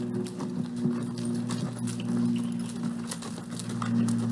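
Horses' hooves clip-clop steadily on a ranch while riders move in a group, a continuous patter of hoofbeats over a low steady hum.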